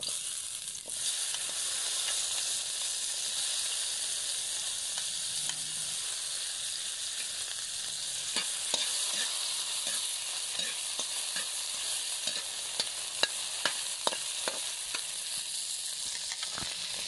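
Tomato frying in a pan with a steady sizzling hiss throughout, while scattered light clicks of a utensil stirring grow more frequent toward the end, close and with no talk.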